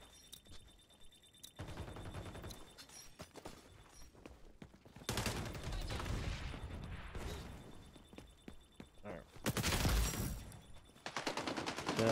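Rapid bursts of automatic gunfire and explosions in the video game XDefiant during ranked play, loud, dense volleys with brief pauses between firefights.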